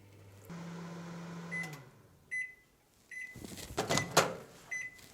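A microwave oven heating onion halves in a lidded oven-proof dish: a low steady hum for about a second and a half, then clicks, short beeps and rattling handling noises, all fairly quiet.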